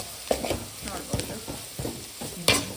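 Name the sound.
spices frying in a pan for country chicken sukka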